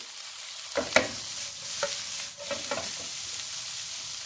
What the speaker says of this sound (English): So now you need to cook the rice nicely warm, hot, before you add any ingredient.